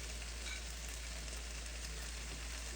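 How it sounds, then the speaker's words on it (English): Beef cheek fond sizzles steadily in a pan during deglazing, a soft, even frying hiss with a low hum underneath, no talking. "This is called deglazing the pan."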